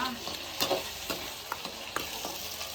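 Food frying in plenty of oil sizzles steadily while a utensil stirs it, adding soft periodic clinks and scrapes at moderate, fairly quiet level.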